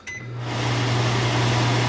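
Over-the-range microwave exhaust fan with only two speed settings running steadily indoors, a broad whooshing airflow with a low motor hum that builds after a brief beep, continuous and fairly loud with no voices.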